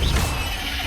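Confringo blasting spell cast in Hogwarts Legacy, a loud low crashing burst with a whooshing tail that holds steady for under a second.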